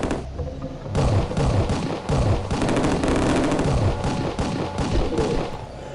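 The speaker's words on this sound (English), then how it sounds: "Oh, who's shooting at me?" Rapid gunfire in the video game Killing Time fires at the player, loud repeated bursts of shots and thuds overlapping continuously in quick succession.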